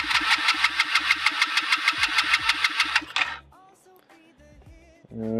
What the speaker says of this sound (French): On va essayer d'accélérer en même temps.